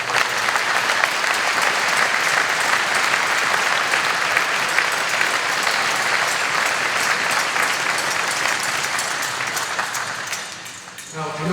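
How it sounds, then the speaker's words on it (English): Sustained, loud audience applause for cadets at an annual cadet inspection ceremony, a dense wash of clapping that holds steady before fading near the end. "Ladies and gentlemen, please join me in a round of applause for all our cadets."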